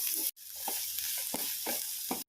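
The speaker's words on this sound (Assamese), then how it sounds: "কেৰাহীত অকণমান তেল দি ইয়াতে মই এতিয়া আদা, নহৰু আৰু পিঁয়াজখিনি ভাজি ল'ম" Ginger, garlic and onion frying in a little oil in a wok, a close continuous sizzle broken by a brief gap and several soft stirring scrapes.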